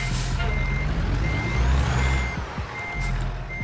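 A truck backs up with its reversing alarm beeping in steady, evenly spaced pulses over a loud, continuous engine rumble, with a faint hiss like an air brake.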